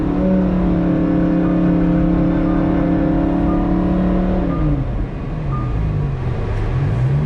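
Chevrolet Camaro engine revving hard and steady while doing donuts, a loud sustained roar that drops and wavers as the car swings around, with no talk.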